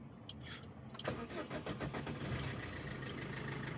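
A 2014 Maruti Swift Dzire VDI diesel car cranks and starts, the starter clatter giving way to a steady, close diesel idle rumble that continues to the end.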